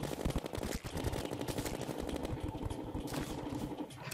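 Rapid, continuous gunfire from Terraria during a boss fight, a dense stream of quick repeated shots layered with busy game sounds throughout.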